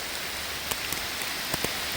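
Heavy lake effect rain coming down outdoors, a dense, steady hiss of drops on surfaces with a few sharper individual splats standing out, no voices.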